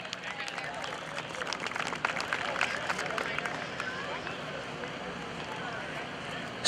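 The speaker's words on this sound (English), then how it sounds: "a big round of applause for Mr." The crowd at the 2011 Blue Angels Homecoming Airshow gives a sustained, moderately distant round of applause. A public-address announcer talks over the clapping.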